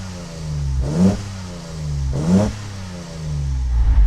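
A Datsun 240Z engine, heard from outside the car, idles with a low rumble and is blipped twice in quick succession, each rev rising sharply then dropping back to idle.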